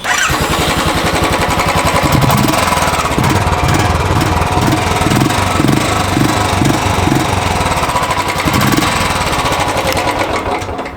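A 2021 Royal Enfield Classic 350 motorcycle engine runs loud and close throughout, its rough thumping pulsing rhythmically as it is revved in the middle, with audible air filter intake noise.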